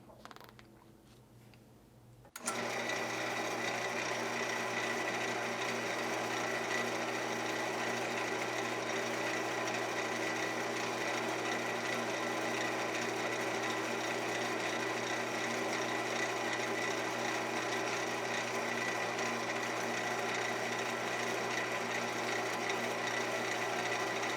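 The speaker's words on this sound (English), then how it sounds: "We'll put a little bit of this on our towel and give it one final polish." A bolt action pen spins on a lathe while being polished with Meguiar's Ultimate Polish on a towel. After a short quiet start, a steady, even motor drone and faint rubbing run on without break.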